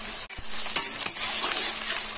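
Chopped onions and cumin seeds fry in five spoons of hot mustard oil, giving a steady, close hiss and crackle with occasional stirring scrapes, loud and continuous with no talk.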